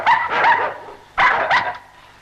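A dog barks close by in two loud bursts separated by a short pause.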